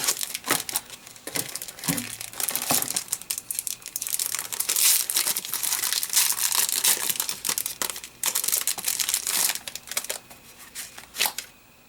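Paper and plastic packaging from a Daiso postcard set being opened close up, with dense, continuous crinkling and rustling bursts that rise and fall throughout.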